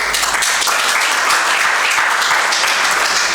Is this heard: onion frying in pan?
no